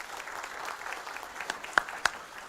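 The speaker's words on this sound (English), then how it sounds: "Give her a round of applause." Audience applause at a community candidate forum, a soft continuous patter of many hands with a few sharper claps standing out near the end, fairly quiet and distant.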